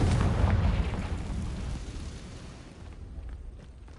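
A Confringo blasting spell detonates in the video game Hogwog, a loud, close explosive boom with a heavy low rumble that slowly decays into a fading crackling tail over several seconds, with no voices.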